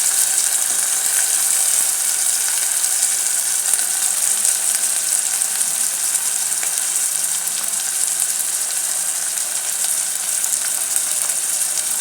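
Tomatoes sizzle in a hot pan while a chutney is being cooked, giving a steady, dense frying hiss that stays even and fairly loud throughout, with small crackles and faint clinks on top and no talking.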